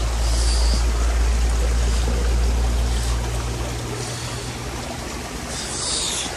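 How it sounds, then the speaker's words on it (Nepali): A flowing mountain stream rushes in a constant, close wash of water, with a low rumble underneath during the first half. "खोलातिर पो आएर बस्नुपर्छ है क्या, शीतल हुने रहेछ हो।"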